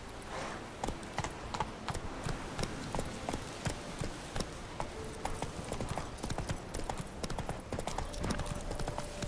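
Hoofbeats of a horse ridden in The Witcher 3 clatter in a steady, quick clip-clop rhythm, moderately close, over faint in-game background ambience.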